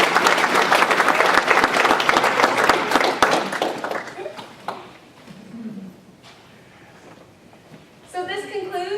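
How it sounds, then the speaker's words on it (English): An audience applauds the MCs at a chartering ceremony, with dense sustained clapping for about four seconds that then fades to scattered claps, followed by a voice speaking. "So please give our MCs another applause."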